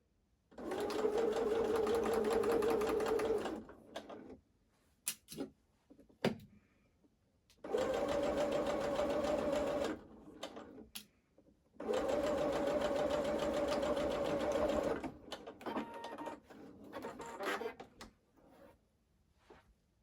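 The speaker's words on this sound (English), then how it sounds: "I'm going to sew this short edge together" A sewing machine stitches a short seam on a sweater in three steady, whirring runs of a few seconds each, close up, with small clicks and fabric handling between runs.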